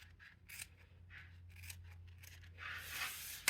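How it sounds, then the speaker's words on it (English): Scissors trimming a small excess strip off a fabric piece for a sewn laptop shoulder bag, a quick series of close, crisp snips and rustling cuts, quiet and alone. "We can just cut a little bit off."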